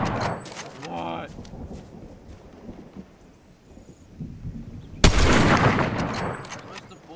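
Gunfire in Fortnite rings out as sharp reports: scattered shots early on, then a loud blast that decays, with a player talking during the shooting.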